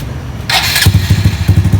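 A Honda MSX125 motorcycle engine starts close by: a loud whirring starter burst, then the engine catches into a rapid, thumping low idle.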